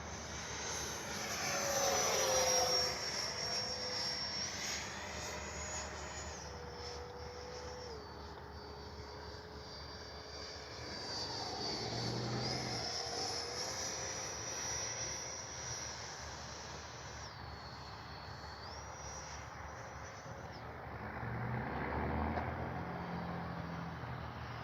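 A small Arrows Avanti S 50mm electric ducted-fan jet without a rudder flies passes over a park, its steady whine rising and falling in pitch as it nears and recedes, loud and continuous throughout.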